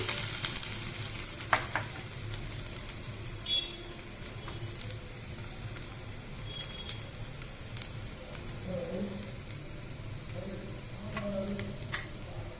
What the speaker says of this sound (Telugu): ఇదిగోండి, వెల్లుల్లి, జీలకర్ర, అల్లం వేస్తున్నాను.